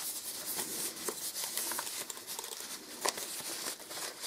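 A computer keyboard is slid back into its protective plastic wrap, giving crisp crinkling and rustling of thin plastic in irregular bursts, close and fairly quiet, with no talking.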